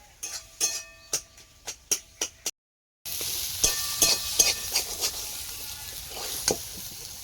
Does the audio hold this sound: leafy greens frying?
yes